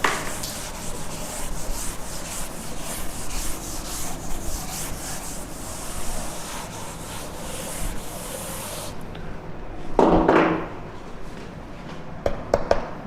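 Steady, continuous rubbing as a board is erased during a physics lecture, a close, dense scrubbing sound that pauses briefly before resuming with a few scratchy strokes.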